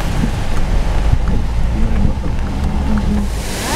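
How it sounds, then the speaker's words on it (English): Typhoon wind in the Philippines roars steadily against the microphone, a loud, rough buffeting rush with gusty swells throughout and no speech. "Can you see the typhoon?"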